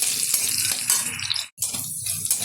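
Green chillies, chopped garlic and ginger frying in hot oil for chilli chicken, a loud, close, crackling sizzle with stirring scrapes and one brief dip.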